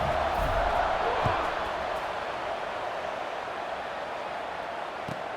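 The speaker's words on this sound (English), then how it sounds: "this crowd is buzzing after that last score" A college football video game crowd, Notre Dame at Missouri, keeps up a loud, steady roar and buzz throughout, with no clear commentary over it.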